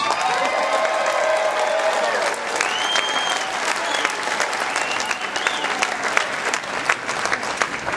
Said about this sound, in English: Got a round of applause for that guy.